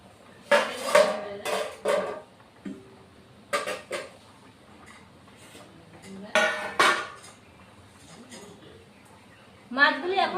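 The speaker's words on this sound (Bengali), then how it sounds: "ঝোল ফুটে এসছে এখন মাছগুলি দিয়ে দিব" Pieces of small rohu-type fish dropped into a bubbling mustard curry in a pot, with clattering utensil and pan knocks in several bursts, a spoon clinking against the vessel, and quiet gaps between.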